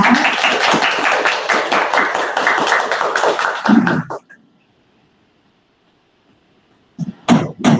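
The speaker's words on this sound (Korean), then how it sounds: "박수를 부탁드리겠습니다." An audience at a youth policy proposal contest in Yongsan claps loudly and densely for about four seconds, then falls silent before a few closer taps and handling sounds near the end.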